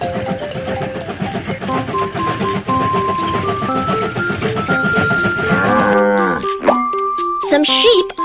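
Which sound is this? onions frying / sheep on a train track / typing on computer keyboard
sheep on a train track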